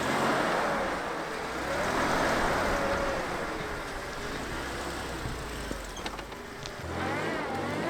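A Toyota off-road truck's engine drones and revs unevenly while stuck in a snow hole, a steady loud motor sound with rising and falling pitch swells and no talking.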